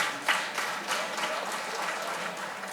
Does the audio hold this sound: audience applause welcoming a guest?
yes